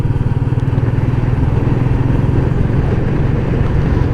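A Royal Enfield Meteor 350 single-cylinder motorcycle being ridden, its engine thumping in a loud, steady rhythmic drone close up, with wind noise and no voices.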